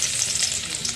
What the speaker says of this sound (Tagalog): Gigisa muna ang bawang.